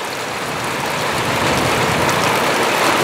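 A heavy summer downpour in Tomsk produces a dense, continuous roar of rain close by that swells slightly louder as it goes on, with no voices.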